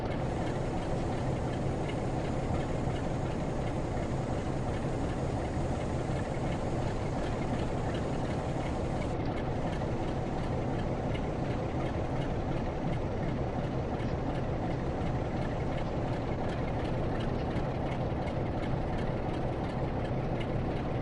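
A big diesel train from the Great Western rolls steadily in Train Sim World 2, a continuous loud, heavy rumble and drone with no break, slowing gently as it approaches a platform, with no voices.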